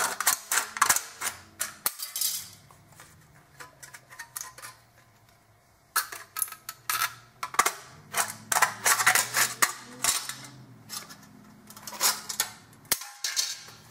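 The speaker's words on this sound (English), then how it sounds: "Use one edge as one corner and just cut through it with some snips." Snips cut through a metal sheet to shape a small triangular pan, giving bursts of sharp, close clicking snaps in quick runs, with a quiet pause partway through.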